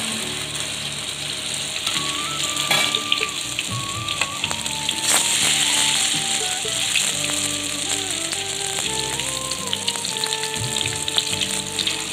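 Bottle gourd fritters (lau bora) fry in a pan over medium heat, giving a steady, even crackling sizzle that runs the whole time, with faint tonal sounds in the background.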